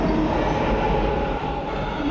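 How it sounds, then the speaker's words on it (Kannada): Loud, steady rumble and roar of a metro train arriving at a station close by, with a low mechanical drone and faint clatter throughout. "ಜಸ್ಟ್ ಇವಾಗ ಮೆಟ್ರೋ ಬಂದಿದೆ"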